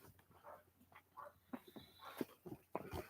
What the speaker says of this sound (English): I hear the dog. Dog wants to come out.